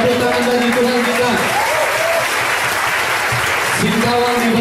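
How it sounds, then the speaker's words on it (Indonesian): A church congregation at a Singkawang worship service applauds, a dense wash of clapping running throughout, with a voice and tonal music carrying over it at the start and again near the end. "Tepuk tangan bagi Tuhan kita."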